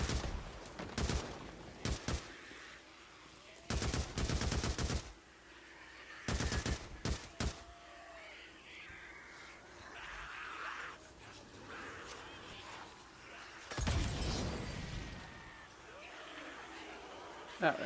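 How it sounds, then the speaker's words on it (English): Video game gunfire against freakers in a horde assault comes in several sharp bursts of rapid shots, separated by quieter stretches of background game noise. "Maybe a little gunfire too."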